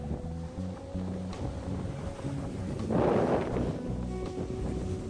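A Lagoon 60 sailing catamaran runs at sea off Mallorca at 8.8 knots in a 16-knot beam wind, with steady wind rush over the microphone and hull and water noise, plus a louder wave splash partway through.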